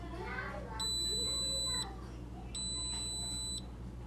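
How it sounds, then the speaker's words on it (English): A Breville brushed stainless steel tea maker signals that the tea is ready with two long, shrill electronic beeps, heard close and loud over faint background chatter. "Once it's all the way up, it will beep and alert us that the tea's ready."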